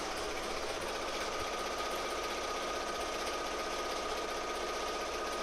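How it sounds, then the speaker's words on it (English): An embroidery machine stitches fast in a steady, rapid mechanical chatter, its even rhythm running alone and unbroken at moderate loudness. "So now she's stitching faster."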